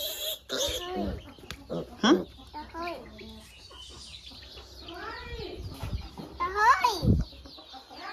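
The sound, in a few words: pig on a pig farm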